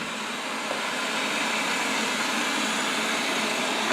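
A Wyze robot vacuum runs on its standard suction setting, its quietest mode. It gives a steady, close, airy whir with a constant broadband hiss and no voices.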